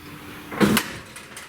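A door that won't shut properly is pushed, giving a single short knock and rattle near the middle, with quiet room noise around it and no voices.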